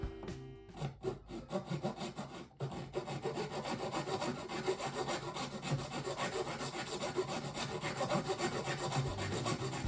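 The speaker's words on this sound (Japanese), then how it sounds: "力を入れるとゴリゴリ削れて、舐める程度の力では比較的滑らかに仕上がります。" A sheet of acrylic is worked with a Tsubosan Bright 900 Extreme file, a coarse-and-fine double-sided rasp, giving close, continuous grinding strokes in a rapid steady rhythm after a few scattered scrapes at the start, with no voices.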